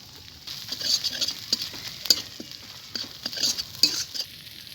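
A spice masala with chilli powder being fried and stirred in a pan, soft low sizzling under a series of light, irregular scrapes and taps of a spoon against the pan, fairly quiet and without talk.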